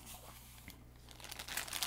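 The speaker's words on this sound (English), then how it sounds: "It comes in a plastic bag." Thin plastic bag around a boxed Gundam Zaku figure crinkles in soft, irregular bursts, quiet at first and growing busier and louder toward the end, with no talking.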